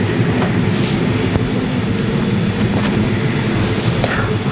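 Steady loud rumble and rattle of a train running underground in the horror film Us (2019), with occasional clanks and a constant roaring hiss.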